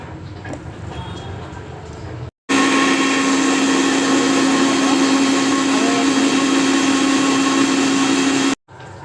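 A blender whirs steadily for several seconds while mixing homemade egg sauce with oil, a loud, even motor drone that starts and stops abruptly, with quieter kitchen noise before it.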